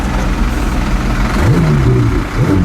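A Ferrari 488 GTB engine revs up with a rising, sweeping note over a steady low drone inside the car, dips briefly, then climbs again.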